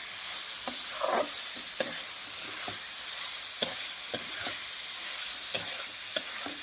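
A green tomato vegetable dish seasoned with salt sizzles steadily in a pan while being mixed, with regular spoon scrapes and taps against the pan over a continuous close frying hiss.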